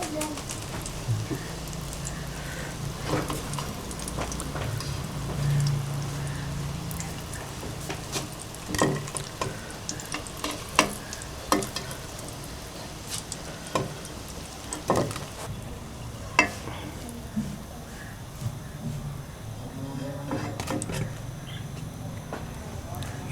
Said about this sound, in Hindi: थोड़ा सा इसको मज़ीद फ्राई करके हम इसको निकाल लेंगे।